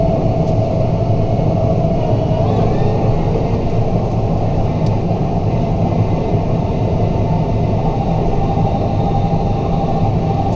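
A square baler runs with a Kuhns bale accumulator, baling with plastic twine: a loud, steady, unbroken mechanical drone of engine and machinery, heard close and alone without any talk.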